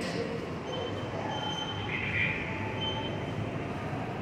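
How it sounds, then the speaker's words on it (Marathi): A metro train rumbles at a station, a steady low roar with a faint high squeal of wheels rising briefly midway, heard without talk. "हे आहे मेट्रोचं स्टेशन."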